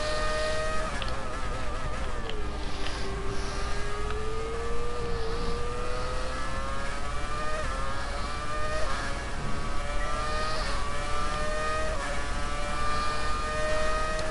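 A McLaren Formula 1 car in the F1 2019 game laps the Australian circuit, its high engine whine rising and falling steadily through gear changes, loud and continuous.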